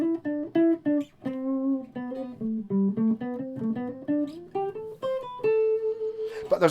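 Electric guitar with its tone and volume knobs rolled back a little, playing a clean, rounded run of single notes and short chords at a steady, moderate level, with no talking.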